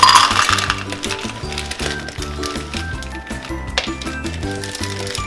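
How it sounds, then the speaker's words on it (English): Chocolate chips pour into a bowl as treats are mixed, making a rapid run of light clicking and tinkling taps, loudest at the start and then thinning out, with a soft musical backing underneath. "And now I'm going to put in 1 cup of chocolate chips."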